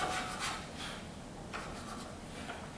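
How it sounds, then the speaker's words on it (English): Sandpaper rubbing back and forth over the wooden dovetail joint of a guitar neck during a neck reset, a close, dry rasping scrape in several uneven strokes with short pauses, heard alone. "And here's how I do it with the sandpaper."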